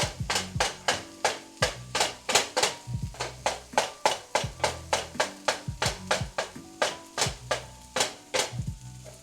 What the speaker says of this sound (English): Last round of chopping.